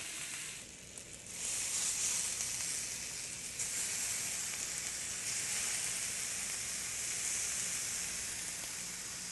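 Jerk pork sizzling steadily in a pan for a Jamaican dish, a continuous close hiss that swells after a brief quieter moment near the start and then holds even with no talking.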